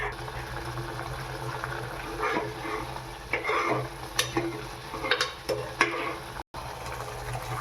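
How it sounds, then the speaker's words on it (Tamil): Grated bottle gourd is stirred with sugar in a pan, giving a soft sizzle with scraping spoon strokes and scattered clinks against the pan, close and fairly quiet, with no talking. "இப்போ சுகர் போட்டு நம்ம ஒரு நிமிஷம் நல்லா வதக்கிட்டோம்."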